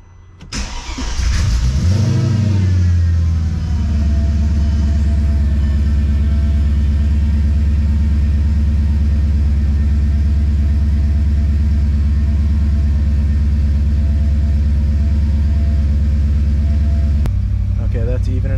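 A Mercedes M113K supercharged V8 with new EV14 550cc injectors cranks and fires, revs briefly and settles into a loud, steady deep idle, close up, before cutting off near the end.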